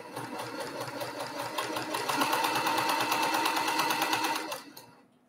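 A sewing machine stitches quilt block pieces together in one continuous run, a fast even chatter close at hand that builds slightly in speed and then stops abruptly near the end.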